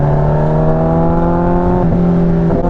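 Kawasaki ZX14R motorcycle engine while riding in traffic with a Pingel electronic quick shifter, a loud, steady, close droning hum holding a constant pitch, then dipping briefly as if through a quick shift, with no talking.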